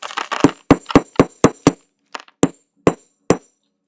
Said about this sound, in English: Now I'm going to hammer this out flat.